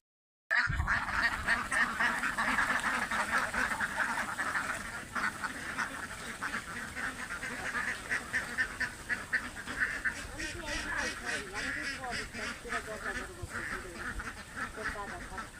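A flock of ducks on a duck farm quacks continuously after a short silent start, a busy overlapping chorus at moderate distance with some faint talk in the background.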